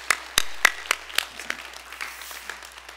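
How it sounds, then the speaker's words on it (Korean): A church congregation claps after a closing prayer at a Bible lecture, a handful of sharp separate claps ringing out in a loose, thinning rhythm over three seconds, with no talking. "우리 주님께 영광의 박수 올립니다."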